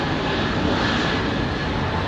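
A Boeing 787 Dreamliner's jet engines at Heathrow give off a loud, unbroken broadband roar, close and steady throughout, with no talk.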